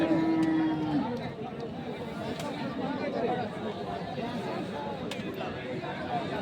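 Crossbred bulls and other cattle at a livestock market in Thakurgaon, with one low moo near the start over a steady hubbub of crowd chatter and nearby voices.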